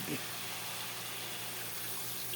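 Water pours steadily into a pot of chicken and pork adobo, making a continuous rushing splash that stays even and close from start to finish.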